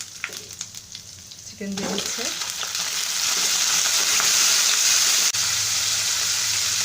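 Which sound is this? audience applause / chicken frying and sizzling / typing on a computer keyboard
chicken frying and sizzling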